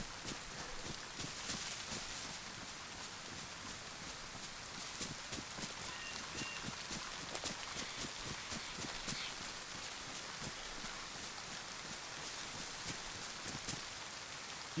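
Steady, dense rain patters continuously on surfaces in the DayZ video game, an even hiss of countless drops with no pauses or voices.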